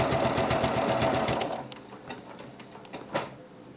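A sewing machine stitches quilt binding in a fast, steady mechanical whir that stops abruptly partway through, leaving a quiet room with a few small handling knocks and clicks.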